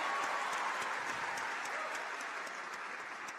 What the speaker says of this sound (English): Give a hand clap for yourselves, because you just unleashed power.